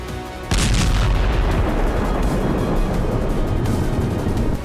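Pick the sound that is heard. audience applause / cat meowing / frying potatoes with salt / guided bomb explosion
guided bomb explosion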